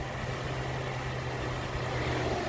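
A 2019 Toyota Corolla with the 1.8 L engine idling just after starting, a steady low hum at moderate distance with no voices.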